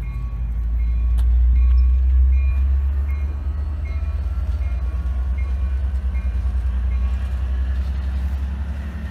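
An Amtrak train led by locomotive 8311 passes nearby with a loud, deep rumble and rolling wheel noise that swells, eases slightly and holds steady, with faint speech mixed in.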